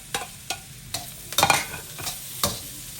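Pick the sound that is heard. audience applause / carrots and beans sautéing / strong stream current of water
carrots and beans sautéing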